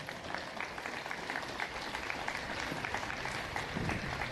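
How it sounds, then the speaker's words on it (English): An audience at a school Model UN opening ceremony in India gives a big round of applause, dense and continuous clapping holding at an even level for the whole stretch. "I think it requires a big applause."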